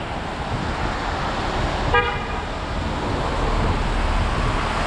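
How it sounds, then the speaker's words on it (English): A single short car horn toot sounds briefly amid steady New York City roadway traffic noise, not very loud against the constant hum of passing vehicles. "What are you honking at?"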